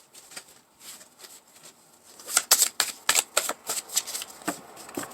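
Cards being shuffled by hand, a run of papery riffles and flicks that starts soft and sparse, then turns louder and quicker in dense bursts, heard close with no talk over it.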